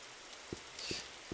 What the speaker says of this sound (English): It's kind of rainy and I can't really see anything.